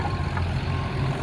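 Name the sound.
John Deere log skidders clearing woods, reversing beeps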